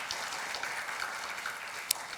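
A church congregation claps at a Sunday worship service, a steady, even wash of applause that holds for about two seconds with no one speaking.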